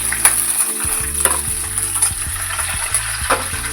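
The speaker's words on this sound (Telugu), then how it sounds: "ఈ విధంగా మనం ఎండుమిర్చి పచ్చిమిర్చిని ఫ్రై చేసుకోవాలి" Dried red chillies and chopped green chillies fry in hot oil in a pan, giving a steady, loud crackling sizzle punctuated by occasional clinks from stirring, with no voices.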